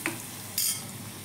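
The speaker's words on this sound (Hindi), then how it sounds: "इसके अंदर डालेंगे थोड़ी सी हल्दी पाउडर, थोड़ा सा धनिया जीरा पाउडर, मिक्स कर लेंगे ताकि जले ना हमारा मसाला" Turmeric and coriander-cumin powder stirred into a frying masala in a pan, giving a soft sizzle with a couple of short utensil scrapes, close and quiet.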